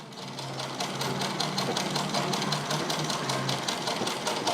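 A sewing machine stitching pleats into a puff blouse sleeve runs steadily and close by, with a fast, even mechanical chatter and a faint underlying hum that carry on without pause for the whole stretch.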